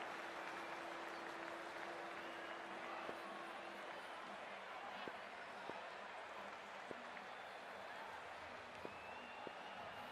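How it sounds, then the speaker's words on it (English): Stadium crowd at a women's T20 cricket match in Navi Mumbai, RCB Women against UP Warriorz in the WPL, with steady applause and cheering at the opening ball, scattered louder claps, a sustained tone and faint talk beneath. "We're about to get underway and already the crowd is up and about."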